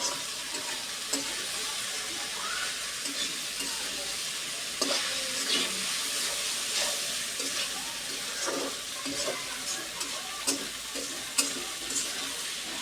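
Okra bhaji fries in a pan with a continuous close sizzle, broken by occasional light scrapes and knocks of a spatula stirring.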